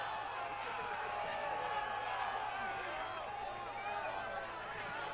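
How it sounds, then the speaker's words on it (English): A stadium crowd at a college women's soccer match, Washington State against Montana in an NCAA first-round game, makes a steady, rising murmur of noise during a goal kick, filling the background evenly. "Crowd getting into it on the goal kick"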